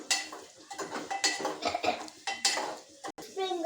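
Upma with carrot is stirred in a pan, producing quick metallic scrapes and clinks of a spoon against the metal in uneven bursts, close up with little sizzle.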